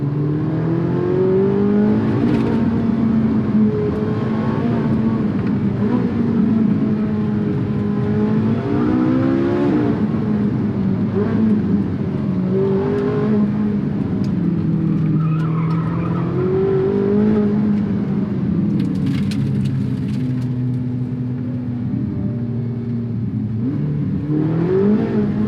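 A sports car engine accelerates and revs while driving, loud and close, its pitch rising and falling through gear changes over a continuous low road rumble.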